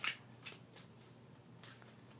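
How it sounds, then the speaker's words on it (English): A deck of playing cards being shuffled for a card trick, with a sharp riffle burst at the start followed by a few softer, scattered flicks and snaps, close and fairly quiet. "First let's shuffle the deck."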